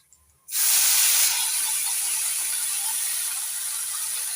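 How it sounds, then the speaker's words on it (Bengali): Washed drumstick flowers hit hot oil already crackling with black cumin, setting off a sudden loud, hissing sizzle that starts about half a second in and holds steady and close to the end. "কালো জিরে একটু একটু ভেজে নিয়েছি চটপট করে ফুটছে এই অবস্থায় দিয়ে দিচ্ছি ধুয়ে নেয়া সজনে ফুল"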